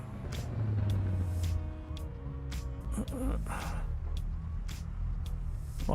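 Caterham car engine with a rear exit exhaust in the racing game Assetto Corsa EVO, a steady low drone with a few sharp clicks and a brief rising tone, faint talking at times.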